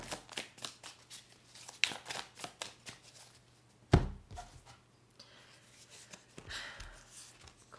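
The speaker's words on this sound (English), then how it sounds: "Shuffling for Capricorn." Tarot cards shuffled by hand up close, quiet riffling and flapping bursts with sharp taps and a thump, irregular in rhythm.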